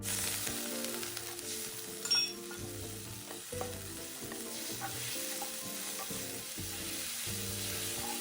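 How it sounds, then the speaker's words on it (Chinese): Water poured into a hot wok after aromatics are stir-fried, a continuous close sizzle and bubbling with faint stirring clinks, no voices. "炒香后再加入清水80毫升，"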